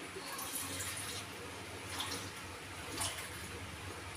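Tap water runs in a quiet, steady stream with faint splashing in a home kitchen, soft and continuous throughout with slight swells.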